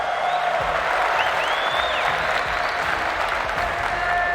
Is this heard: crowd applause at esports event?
yes